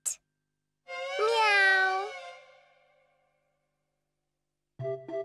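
A cartoon cat gives one long, bright meow in a children's show, held for about two seconds before fading, followed later by a short burst of voice.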